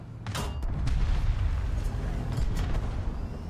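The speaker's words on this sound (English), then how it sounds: "it is that double cannon and the 50 cal that will kill me" Heavy gunfire from a twin cannon and a .50 caliber machine gun in the War Thunder combat game, several booming bursts over a low rumbling battle din.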